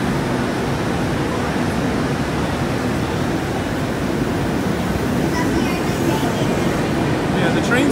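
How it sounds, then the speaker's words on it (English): Steady, loud rumbling interior noise aboard a double-deck commuter train in Sydney, a continuous broadband roar with a faint high hiss building near the end. "Because this train's a little loud."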